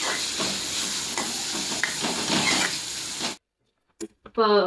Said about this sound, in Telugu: పచ్చిమిరపకాయలు వేసుకుందాము గోల్డెన్ బ్రౌన్ కలర్ వచ్చేంత వరకు వేగాలి